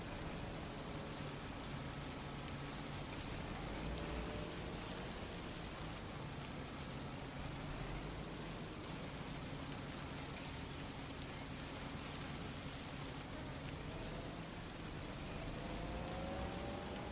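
Rain pours steadily in the Farming Simulator 25 video game, a dense unbroken hiss with faint machine tones beneath, no talk.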